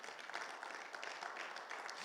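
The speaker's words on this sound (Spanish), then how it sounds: "¿Cuántos le dan un fuerte aplauso al Señor?" Church congregation at a Bible seminar gives a round of applause, a soft, dense wash of many hands clapping at a distance, steady and fairly faint throughout.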